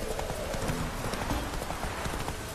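A horse's hooves clip-clop in a steady rapid rhythm in The Witcher 3: Wild Hunt, loud and close, with a continuous broadband ambient wash underneath.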